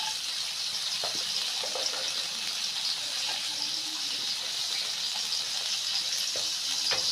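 Carrots frying in hot oil for an Afghan pulao, a steady, fairly faint broadband hiss and sizzle with occasional small crackles and pops, no talking.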